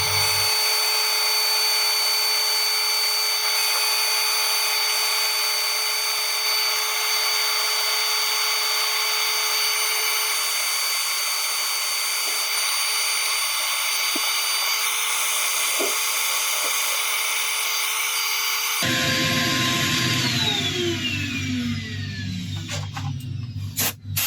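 A turned wood piece being sanded on a spinning lathe, a steady high whine with a constant hiss of abrasive running throughout, then a shift near the end as the lathe spins down with a falling pitch.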